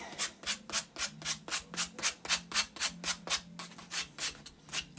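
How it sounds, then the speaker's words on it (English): Wooden craft cutouts sanded by hand for a distressed, weathered look: steady rhythmic back-and-forth rasping strokes, about three per second, close and clear with no talk. "So, I said we were going to sand these a little bit."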